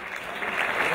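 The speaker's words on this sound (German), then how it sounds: "Ja, nicht nachlassen mit dem Applaus." Audience applause at the award ceremony of the 16th Worldgames of Mountainbiking, a dense steady clapping that swells louder halfway through the short stretch, with no speech over it.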